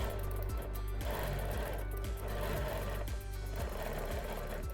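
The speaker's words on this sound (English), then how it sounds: "I'm quilting on a Bernina Q series, specifically the Bernina Q16 in the horn lift table." A Bernina Q16 sewing machine on a horn lift table quilts side-to-side hexagons with a template, giving a steady, close, continuous mechanical whir with a regular pulsing stitch rhythm throughout.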